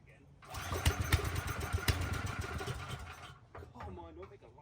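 A small portable generator engine cranks and sputters loudly for about three seconds, rattling unevenly without catching, then cuts out before someone speaks.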